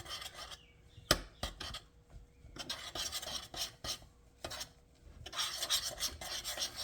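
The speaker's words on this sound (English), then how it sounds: "We'll just stir that through over the heat" Oats with vanilla protein stirred in a pan over heat, rough rasping scrapes of the utensil across the pan bottom in uneven strokes with a sharp knock or two, close and quiet, no voices.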